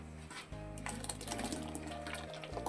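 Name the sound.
3 litres of water poured into a kadhai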